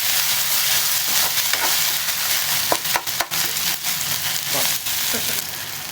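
Garlic and tomato sautéing in a hot pan, a dense steady sizzle and crackle. A few scraping stir strokes break through near the middle, and a voice comes in faintly now and then.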